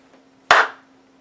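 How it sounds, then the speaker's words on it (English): One crisp hand clap, repeated as a second demonstration, struck close and loud and then decaying briefly into a quiet room with a low steady hum. "I'm going to do it again."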